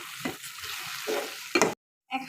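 A hog plum pickle mixture with ground dried chilli is stirred in a pan, giving short scraping and sizzling bursts with a brief silent gap near the end.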